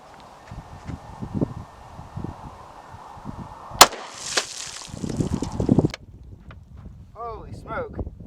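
Close, sharp gunshot from a firearm loaded with a home-made hollow point bullet of about 147 grains, cutting through outdoor wind noise. The shot rings out briefly before the background returns.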